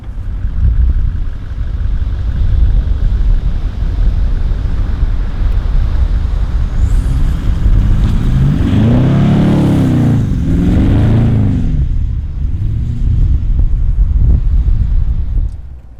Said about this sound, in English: when you're ready, start rolling and I'll start spinning. 1st gear low range for you, 2nd gear for me.